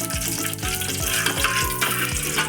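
A spoonful of homemade ghee heats and sizzles steadily in a pan as rava ladoo is prepared, with a dense continuous frying hiss and faint clinks of a utensil near the pan throughout.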